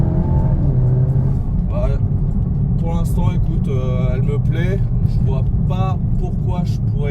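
A car engine drones steadily inside the cabin with a window open, a low continuous rumble running under conversation between people in the car.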